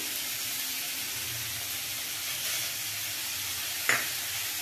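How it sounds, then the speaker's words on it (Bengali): Spices frying with tomatoes in a pan, a steady close sizzle with faint stirring throughout and one brief louder scrape near the end. "মশলাটা এর সঙ্গে একটু ভালো করে ভাজবো।"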